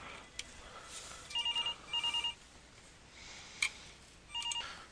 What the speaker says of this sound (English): Sorry, my phone is ringing there for a second.